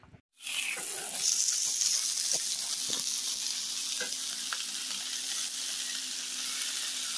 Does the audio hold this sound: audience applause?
no